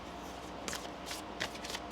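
A deck of tarot cards is shuffled quietly, with a few short riffling bursts against a steady low hum.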